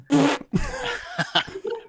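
A short cartoonish fart from a character in the party brawler Party Animals sounds out over a low background. Scattered bursts of chatter and laughter-like noise follow.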